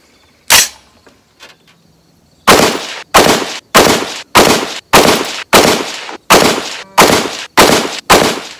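A Bear Creek Arsenal .308 AR10 rifle fires at a range, one early shot then a steady string of nine loud, sharp reports at roughly even intervals, each ringing out briefly.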